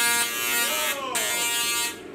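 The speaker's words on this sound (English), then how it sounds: "It's got onboard audio, this ghost train," Onboard audio effects on a ghost train dark ride at Gröna Lund amusement park, a loud, continuous buzzing, droning tone with a warbling pitch sweep near the middle, sustained for the whole moment before cutting back slightly at the end.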